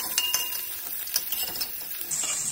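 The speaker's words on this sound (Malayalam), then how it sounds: "ഇത് നന്നായി ഇളക്കി കൊടുക്കാം നമുക്ക്." A spoon scrapes and clinks in a pan as shallots and onion are stirred for Kerala okra stir fry. The taps are sharp, close and irregular over a faint sizzle, with no voices.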